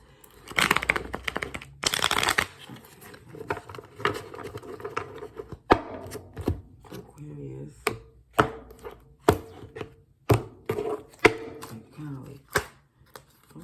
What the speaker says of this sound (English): I'm going to do one more shuffle and one more cut, please, for Aquarius.